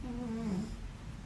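Two pets snoring together at close range, a steady low rumbling breath with a droning tone that dips midway, heard alone without talk.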